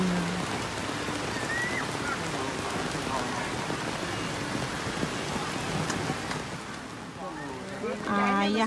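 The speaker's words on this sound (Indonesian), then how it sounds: "Hujan." Steady rain falls at Bandengan beach in Jepara, a close, continuous hiss of drops on surfaces with low rumbling underneath, while voices talk over it.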